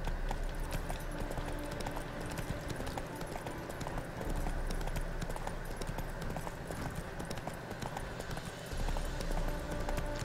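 A horse gallops in a video game, its rapid steady clip-clop of hooves running continuously and fairly loud over a dense game soundtrack and ambience, with no one talking.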